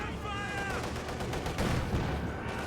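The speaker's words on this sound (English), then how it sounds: "Great mortar hit there on those conscript squad." Mortar round striking a squad of conscripts in the strategy game Company of Heroes 2, a dense rumble of impacts and scattered gunfire under a steady battle din, with a voice talking over it.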